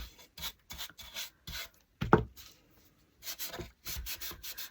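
Brown Jolie top coat wiped by hand onto distressed wood, a series of soft, close rubbing strokes in short bursts with one sharper scrape midway and brief pauses between.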